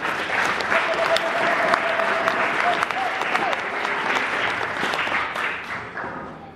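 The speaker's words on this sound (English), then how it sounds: "Another round of applause for Father Maina and the team." A congregation applauds during a Catholic Men Association commissioning ceremony at Mary Queen of Apostles church in Dagoretti, with steady, full-room clapping that continues evenly for several seconds and tapers slightly at the end.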